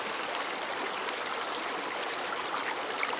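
Water rushing steadily through a narrow rocky stream where someone is searching for gold, a close, dense hiss and splash with no pauses.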